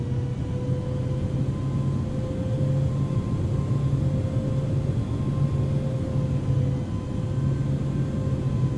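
A Boeing 777-300ER taxis in the Infinite Flight simulator game, giving a steady, loud jet engine hum with a constant whine and droning rumble that holds level throughout, with no talking.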